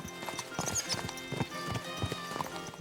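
Horse hooves clip-clopping in the video game Kingdom Come Deliverance 2, a run of quick, close, uneven clops with a brief whinny, set against low game ambience.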